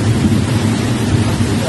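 Hurricane rain and strong wind roar steadily, a dense, loud wash of storm noise with no letup.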